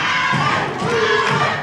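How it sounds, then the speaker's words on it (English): Wrestling crowd cheering and shouting for Tyler Thorn at a Thorn Family vs Legion match, a loud, dense roar of voices swelling steadily throughout with scattered yells on top. "Crowd getting behind Tyler Thorn."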